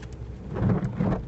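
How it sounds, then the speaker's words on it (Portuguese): Rain falling at night near a cemetery in Brazil, a steady hiss with a low, swelling rumble underneath, fairly loud and close, with no talk. "Tá chovendo."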